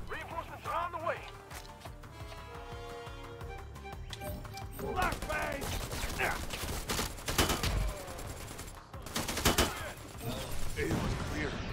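Gunfire in the video game Predator: Hunting Grounds crackles in bursts and volleys, with players talking over the shooting and other game sounds.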